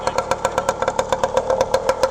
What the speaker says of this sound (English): Listen to the exhaust on this thing